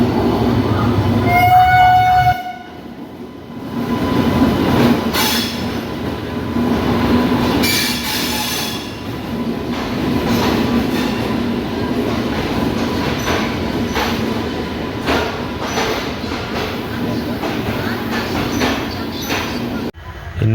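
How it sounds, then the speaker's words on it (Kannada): A Hubballi to Mysuru Express train pulls out of a station, its wagons rumbling steadily with wheel squeal and a brief horn near the start, loud and close throughout. "ನೋಡಿ ಇವಾಗ Hubballi to Mysuru express departure ಆಗ್ತಾಯಿದೆ."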